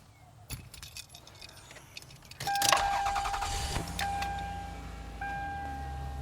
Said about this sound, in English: now I'm going to turn the car on.